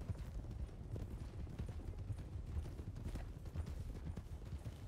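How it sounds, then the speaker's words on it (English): Horse hooves clip-clop steadily in a video game, a dense, continuous patter at moderate distance throughout with no speech. "Is that Molly on the back of Bella's horse?"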